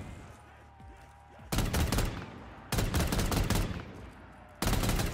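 Three loud bursts of rapid automatic gunfire from a weapon in Black Ops 3 custom zombies, each lasting about a second, separated by quieter game ambience.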